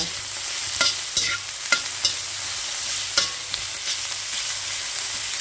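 Chicken fries quietly in a pan for pancit canton with a soft, steady sizzle. A utensil stirs it, giving several sharp scrapes and clinks at irregular intervals.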